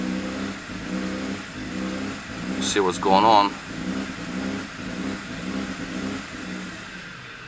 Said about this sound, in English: That's basically how engine accelerates poorly.